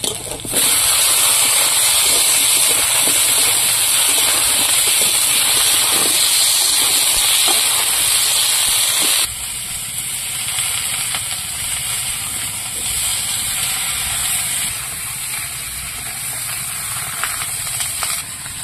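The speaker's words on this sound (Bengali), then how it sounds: "পেঁয়াজটা ভেজে নিয়েছি, এবার সবজিগুলো দিয়ে দেবো" Vegetables for a Bengali brinjal and parshe fish curry hit fried onions in a hot pan and sizzle loudly with a bright, steady hiss, then settle into a softer, continuous frying crackle.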